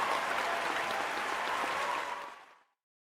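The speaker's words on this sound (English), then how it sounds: "give yourselves a round of applause" A crowd gives a brief, dense round of clapping that holds steady for a couple of seconds before cutting off abruptly.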